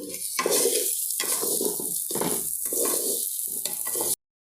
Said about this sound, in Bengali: আদা রসুন বাটা দিয়ে দিলাম